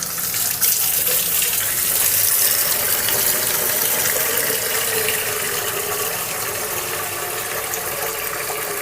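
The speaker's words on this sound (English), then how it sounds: "I will wash this rice" Rice being washed under a running kitchen tap, the water gushing and splashing steadily and loudly for the whole stretch, with no voices.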